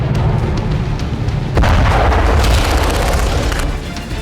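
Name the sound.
explosions from missile and drone attack on naval base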